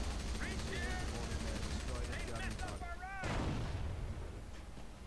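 Artillery barrage in Company of Heroes with the Back to Basics mod: a dense, continuous rumble of distant shelling and explosions, with a sharper burst midway, under a voice talking.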